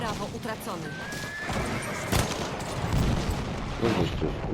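A horse whinnies in the video game Battlefield 1, a brief neigh amid battlefield noise and gunfire while players talk over it.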